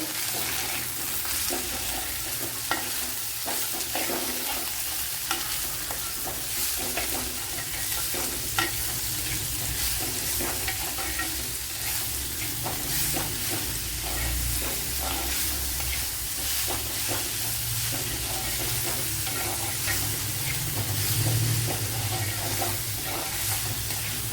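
Onion frying in a pan with garlic and ginger for a snake gourd dish, a continuous close sizzle with spatula scrapes and stirring throughout, steady and moderately loud.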